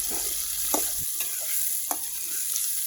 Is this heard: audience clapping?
no